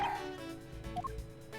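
A cartoonish dog named Missile from the Ace Attorney Investigations video game gives a couple of short, bright yips over a faint, steady game-music backdrop.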